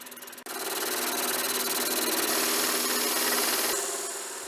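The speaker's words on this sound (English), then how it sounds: "So I take the parting tool, and that's where I begin." A wood lathe spins a baseball bat while a parting tool cuts into it, a loud, continuous high scraping hiss with a sharp start and a slight drop near the end.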